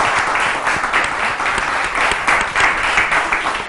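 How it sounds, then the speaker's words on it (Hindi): An audience claps on a television talk show, a dense and steady burst of applause at close range that carries through the whole stretch with no break. "ताली बजाओ"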